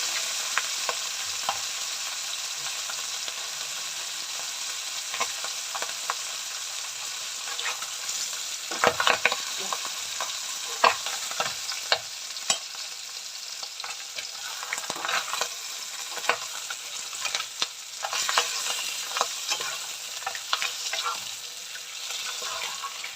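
Live stinging catfish fry in oil, a continuous close sizzling hiss with frequent sharp crackles, pops and stirring scrapes throughout, and no one speaking.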